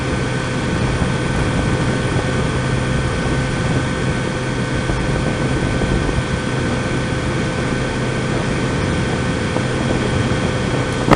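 A 2018 Kawasaki Z900RS motorcycle cruises in 5th gear at about 4,500 RPM near 60, its engine a steady, unbroken drone mixed with rushing wind noise, constant and loud throughout.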